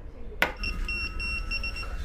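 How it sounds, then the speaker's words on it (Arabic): A restaurant order pager goes off at a Turkish pide shop in Istanbul, starting with a sharp click and then a steady repeating electronic beep pattern over room murmur. "تطلب طلب بيعطوك هذا الجهاز، بس يرن تروح تاخذ طلبك بإيدك"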